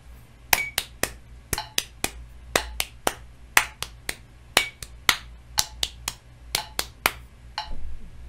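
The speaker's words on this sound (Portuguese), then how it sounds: "Com as palmas." Sharp hand claps beat out a rhythmic pattern in a music theory lesson on rhythmic cells, about two dozen crisp strikes in uneven groupings, close and dry over a faint low hum.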